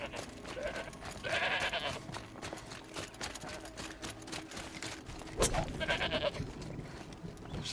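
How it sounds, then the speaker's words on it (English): A goat in Horizon Zero Dawn bleats twice, with short wavering cries several seconds apart, fairly faint amid soft outdoor ambience and scattered thuds. "Aloy, stop tormenting that poor goat."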